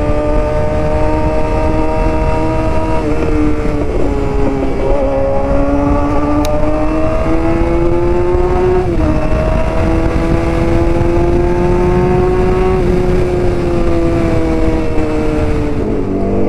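Motorcycle revving and racing along a road, a steady close engine drone with pitch rising and falling through repeated gear changes, loud and continuous with no talk.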